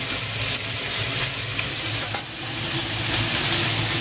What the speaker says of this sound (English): the marinated meat with some paprika, with pepper, thymian. And we give that now into the hot pan.